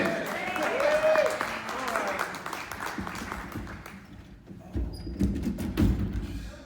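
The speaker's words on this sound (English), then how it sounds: "Everybody applaud because he's the guy who hired me to be here" Audience applause at a fan convention panel remembering Kenny Baker, with clapping and a whistle early on, fading midway and then giving way to thumps and voices.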